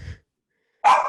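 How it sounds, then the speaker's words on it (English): A female dog gives a short, loud single bark after a brief quiet gap, heard close by indoors. "I don't know why she's barking"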